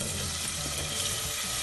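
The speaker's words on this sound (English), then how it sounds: "you can tell that the oil is hot because it's sizzling" Potato frying in hot oil in a pan for celery soup, giving a steady, even hiss and crackle that is moderately quiet and uninterrupted.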